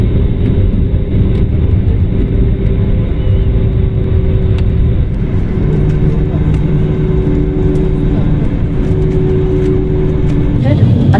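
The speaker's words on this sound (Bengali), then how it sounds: "এখন জম্মুতে ল্যান্ডিং হচ্ছে" Cabin of an IndiGo airliner landing at Jammu, a steady loud engine rumble and airflow roar filling the whole stretch with a low droning hum, and a voice talking beneath it.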